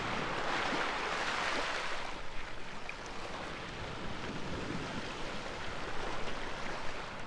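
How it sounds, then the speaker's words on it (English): Waves crash on the rocks at Kimmeridge Bay on the Dorset coast, a steady broadband surf wash that stays fairly loud and unbroken, with gusts of wind mixed in. "The lovely sound of the waves crashing on the rocks there."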